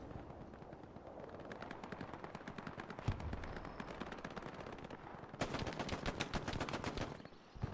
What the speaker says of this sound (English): tell me Joe's not about to shoot someone with a pistol